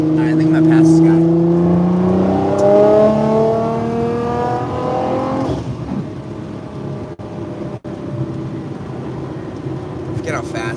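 A Chevrolet C8 Corvette Z06 engine revs upward in rising sweeps, loud and close, then eases off as a voice talks over the cabin noise.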